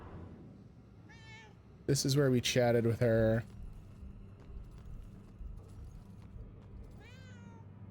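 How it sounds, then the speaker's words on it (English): A cat meows in the video game Murdered: Soul Suspect: a loud cluster of several drawn-out meows near the middle, with fainter single meows before and after, while someone talks over ambient game sound. "How are we gonna get this cat down?"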